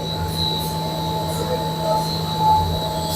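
A high-speed blown-film plastic production machine runs with a steady, loud industrial hum, a whine of fixed tones and a blower's roar that swells slightly at moments.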